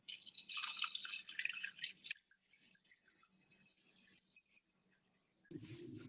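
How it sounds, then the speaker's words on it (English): Water poured into a cooking pot holding brown rice for a plant-based dish, a quiet trickling splash with drip-like spatter that stops, leaves a near-silent pause, then starts again briefly. "And the next thing is I'll add some water."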